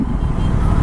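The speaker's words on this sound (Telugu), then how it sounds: "మంచి ఆ ప్యారలల్ ట్విన్ మనకి చిన్న విజిల్ వస్తుంది చూడండి" An Aprilia RS 457 parallel-twin engine idles nearby with a steady, loud low rumble. The slight whistle is not clearly apparent.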